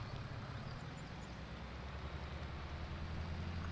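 Steady, even hiss of rain falling in the Farming Simulator 19 farm game, constant and fairly loud with a low rumbling hum beneath it and no voices.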